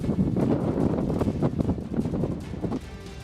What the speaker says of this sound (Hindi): पहले काफी रफ्तार में यहाँ हवाएं चलती नजर आई, उसके बाद भारी बारिश इस वक्त हो रही है।